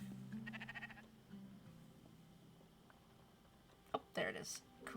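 Sheep bleat in the video game Spiritfarer, a short wavering cry near the start followed later by a couple of brighter bleats, faint beneath quiet game ambience with occasional talk.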